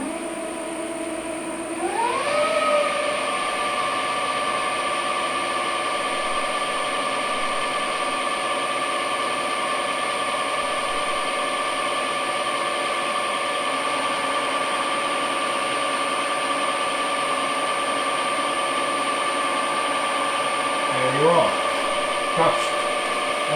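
An angle grinder mounted on a support stand spins up to a steady, loud whine and keeps running evenly while skimming 0.1 millimeter off a metal surface, then winds down near the end.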